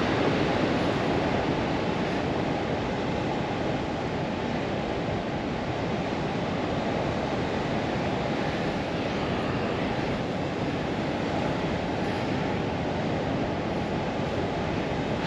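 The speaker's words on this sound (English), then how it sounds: "Those are some big waves coming in and crashing." Big ocean swells crash against a natural rock jetty on the Newfoundland coast. The surf makes a continuous loud roar and wash with no distinct breaks and no voices.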